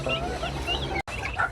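Bantam chickens cluck and murmur close by in a pet shop, a short run of soft calls broken by a brief gap.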